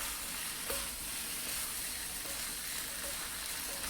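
Cabbage and chicken stir fry sautéing in a pan, a continuous loud sizzle with occasional stirring scrapes throughout.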